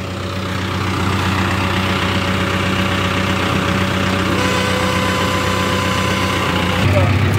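A tractor engine idles with a KS super seeder attached, a steady loud low rumble with constant mechanical vibration, close by and unbroken, with a slight shift near the end.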